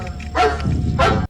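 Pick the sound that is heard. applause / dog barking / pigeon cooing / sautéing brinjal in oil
dog barking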